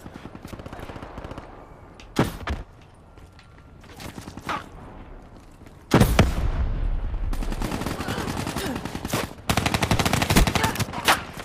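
Gunfire rattles through Call of Duty: Black Ops III multiplayer in loud machine-gun bursts, with a couple of sharp single shots early on, then sustained automatic fire hitting the player in two long stretches, with a brief pause between them.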